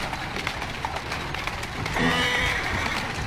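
A horse-drawn carriage rolls along in Assassin's Creed Syndicate, with a steady rumble of wheels and hooves and a horse whinnying near the end, no voices.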